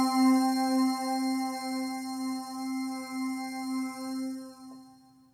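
Dry synth bell patch, Jimmee Dee's keyboard sound: a single sustained, bright bell-like tone with rich steady harmonics, held clean and alone with no reverb or effects, slowly fading near the end.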